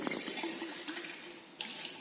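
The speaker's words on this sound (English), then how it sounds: "we clean the conical flask properly" Running water splashes and gurgles steadily, like rinsing under a tap, as a 250 ml glass conical flask is rinsed in a chemistry lab, with a brief louder gush near the end.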